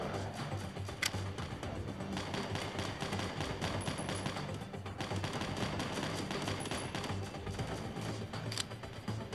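Gunfire in the video game WarFriend in WARPATH mode, a dense, continuous stream of rapid shots from many weapons, steady and unbroken throughout, with occasional louder cracks standing out.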